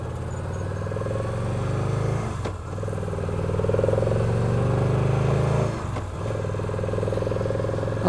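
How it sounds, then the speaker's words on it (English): A Victory Cross Country touring motorcycle cruising on the road, its engine a steady, fairly quiet low drone with two brief dips as the rider eases off, alone with no talking. "It's kind of hard to tell since this bike is so quiet"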